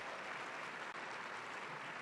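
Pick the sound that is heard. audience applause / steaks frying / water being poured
audience applause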